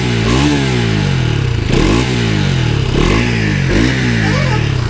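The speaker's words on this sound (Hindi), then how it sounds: "इसका साइलेंसर का जो साउंड है ना वो भी भाई अमेजिंग है" A BS6 Bajaj Pulsar NS200 motorcycle revs repeatedly through its underbelly exhaust, rising and falling in pitch with a throaty, clattering rumble, loud and close with no talking.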